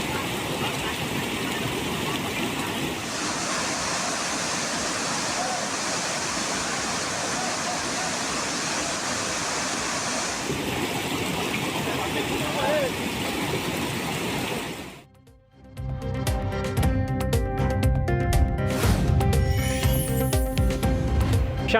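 Flooded main waterfall roaring with a dense, steady rush of water for about fifteen seconds, then the roar cuts off and other sounds follow.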